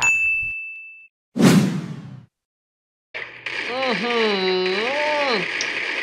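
A short bright notification bell ding rings out, followed by a whooshing swish and then a wavering electronic tone, played as a subscribe reminder effect in a mobile game clip.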